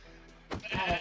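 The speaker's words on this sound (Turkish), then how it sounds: "Oğlum koyun spawn oldu lan burada." A sheep bleats in the Minecraft video game, a couple of short close calls in quick succession, loud and alone after a quiet start.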